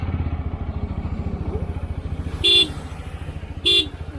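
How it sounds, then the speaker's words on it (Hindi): A TVS Apache RTR 160 4V motorcycle horn sounds two short, loud, nasal beeps about a second apart over the steady idling thump of its engine. "ये हॉर्न है,"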